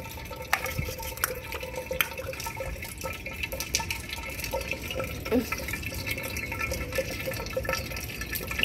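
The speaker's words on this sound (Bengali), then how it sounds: "পানি, সুন্দর পানি দিয়ে দিলাম" Water is poured in to replace old water, with a soft trickling and dripping that runs steadily beneath light background noise, with no talk.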